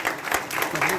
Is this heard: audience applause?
yes